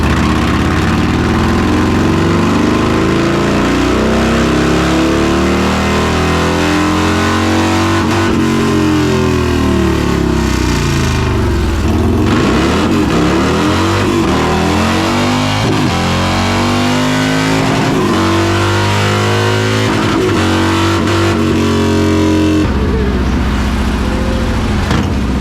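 A Harley-Davidson Milwaukee 8 motorcycle engine runs on a dyno, a loud, close, continuous rumble whose pitch sweeps up and down as it revs, with no talking.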